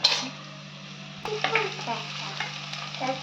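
Chopped onions sauté and are stirred in a pan for Dindigul chicken, giving a soft sizzle with a few scraping stir strokes against a steady low hum, close and moderately quiet.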